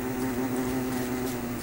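Bees in the video game Don't Starve give a steady, droning buzz that hangs at an even loudness, with no voices over it.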